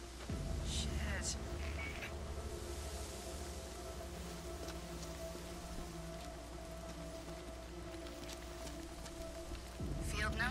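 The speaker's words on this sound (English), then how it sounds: "Starting to rain." Steady rain falling in the Days Gone video game, an even hiss of drops on surfaces holding throughout at a quiet level, with low rumbling underneath and a voice talking at points.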